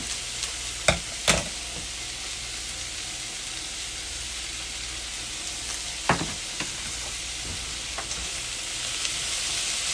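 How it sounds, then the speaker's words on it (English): Shrimp with a chili and cumin rub sizzles steadily in a hot pan, a dense close crackle broken by a few sharp scrapes and knocks of stirring, with no voices. "So I'm gonna add my shrimp now. And I'm gonna add the chili and cumin rub."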